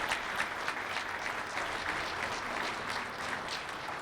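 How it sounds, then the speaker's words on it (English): Audience at a care center ribbon cutting and open house applauding board members, with steady, even clapping that carries on for several seconds. "So please give them a round of applause."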